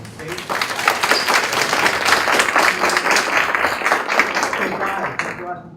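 An audience at a panel talk on the creative economy, part of a lecture series on the job market, claps loudly and steadily for about five seconds, dense and continuous, then fades at the end.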